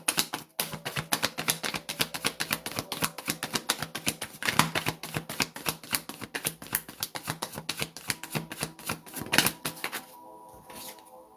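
Tarot cards being shuffled give a fast, dense run of crisp riffling clicks, close and fairly quiet, which stop abruptly near the end.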